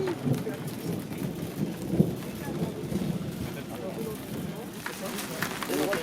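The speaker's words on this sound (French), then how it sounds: "Oui, la pluie" Steady rain patters and hisses throughout, with a low rumble underneath and a voice speaking over it.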